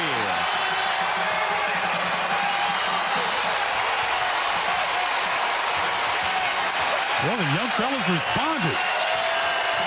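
Loud arena crowd roars and applauds at a Marquette versus Kansas State college basketball game at Fiserv Forum, a steady wash of noise throughout with a commentator talking over it and a brief high whistle-like tone near the end.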